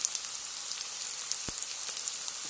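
Green chillies hitting hot oil in a frying pan while chilli chicken cooks, giving a steady, close crackling sizzle with dense fine pops and no voices.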